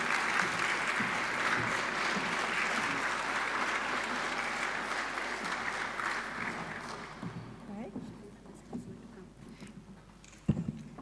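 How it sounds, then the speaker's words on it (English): An audience at a school recognition awards ceremony applauds steadily for several seconds, a broad wash of clapping that thins and fades out toward the end, leaving a quieter room with a few scattered sounds. "please stand and applaud when your principal comes up"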